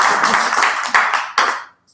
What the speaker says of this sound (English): All the spontaneous applause.